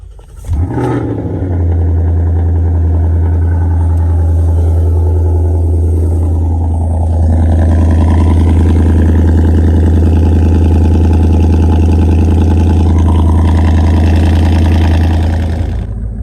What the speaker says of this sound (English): So you know I gotta give you a super cold start.